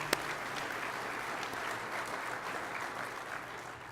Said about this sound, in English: let's give Mike a round of applause in his absentia.